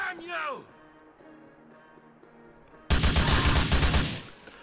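GTA 4 gameplay: a sudden loud rapid burst of gunfire erupts after a stretch of quieter game sound, lasting under two seconds; someone talks earlier in the clip.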